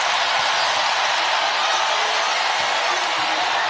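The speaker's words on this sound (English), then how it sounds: "And that gets the crowd into it." A packed arena crowd at an NCAA Tournament basketball game between West Virginia and Kentucky roars loudly and continuously, a dense wash of cheering with no break.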